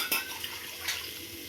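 Fried prawns stirred into a tomato masala for prawn biryani in a pan, with a soft sizzle and scraping spoon strokes, close and fairly quiet, with no talk.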